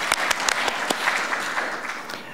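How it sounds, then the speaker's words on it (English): Lecture-hall audience applause: scattered distinct claps near the start merge into a fuller, steady round of clapping that tapers slightly toward the end, heard alone without speech. "I think we should like applaud it."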